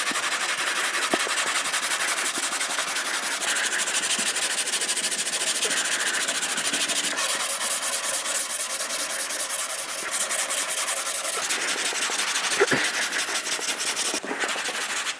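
A 1970 Chevelle aftermarket car hood is sanded by hand with 120 grit sandpaper, producing a steady, loud rasping rub with rhythmic back-and-forth strokes and no talking.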